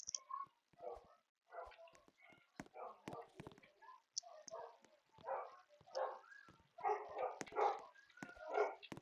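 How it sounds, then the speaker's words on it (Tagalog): A dog barks in short repeated bursts in the background while a person keeps talking over it. "kasi may kumakahol na aso sa amin."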